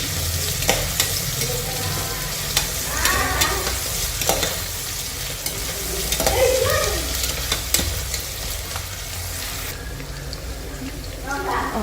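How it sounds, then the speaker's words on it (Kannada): Onions fry and get stirred in a pan for biryani, with steady close sizzling and intermittent scraping stirs throughout, occasional clinks, and no talk over it. "ಸ್ವಲ್ಪ ಇದು ಗೋಲ್ಡನ್ ಬ್ರೌನ್ ಬರೋ ತನಕ ಫ್ರೈ ಮಾಡ್ಕೋಬೇಕು"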